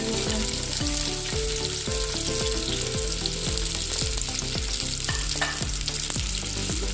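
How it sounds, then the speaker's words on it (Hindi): Sliced onions fry in about one and a half cups of oil in a pot for beef pulao, a loud continuous sizzle with rhythmic low thumps as they are stirred, and no talking. "अब हमने प्याज को ऐड कर देना है, जो कि मेरे लंबाई साइज में काट दिए हैं"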